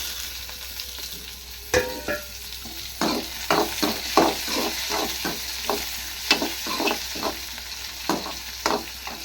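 Tomato stirred into onions frying in oil for an egg fry: a soft sizzle under repeated spoon scrapes and clacks against the pan, irregular and close.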